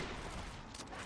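Dense, continuous machine gun fire and battlefield gunfire from the Call of Duty campaign mission Crossroads, loud and unbroken throughout without pause.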